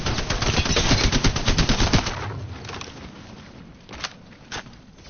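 Spitfire machine gun in Apex Legends firing a rapid, loud, close burst for about two seconds, then falling quiet apart from a couple of isolated shots.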